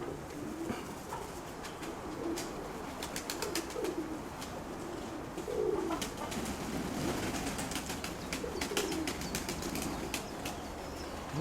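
Pigeons of a registered breed cooing softly in a loft, with repeated bursts of wing flapping and scattered bird calls, steady ambient chatter of birds throughout.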